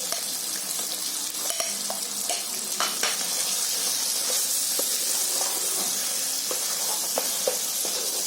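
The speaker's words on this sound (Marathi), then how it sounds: "असं ढवळत राहायचं. म्हणजे मसाले चांगले फ्राय होतात." Ground spices for a Konkani mutton masala fry in a pan while being stirred, giving a steady bright sizzling hiss broken by scraping and clinking stir strokes, close and continuous with no talk.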